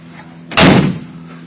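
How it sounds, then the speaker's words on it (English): A Model A coupe's car door slams shut once with a loud, sharp thud that decays quickly, heard alone over a low steady hum. "now what I'm going to do, I'm going to close my door."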